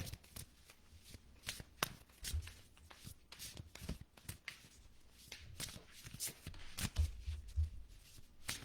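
Tarot cards riffled and shuffled in a repeated burst of crisp flicks and snaps, then drawn and laid down for a reading, close and fairly quiet with soft low thumps and no talk.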